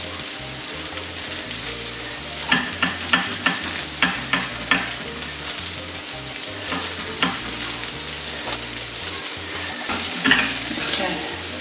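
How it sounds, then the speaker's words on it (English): Potatoes frying in a pan give a steady close sizzle, with repeated scraping and stirring knocks from a utensil scattered throughout. Nobody speaks. "I'm going to cook the rest of our potatoes."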